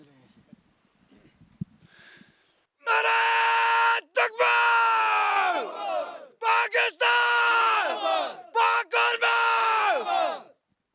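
Pakistan Army soldiers posted at the Line of Control shout a slogan together on Eid ul Fitr, in loud, close group bursts of voices that come in about six call-and-response surges with short gaps between them.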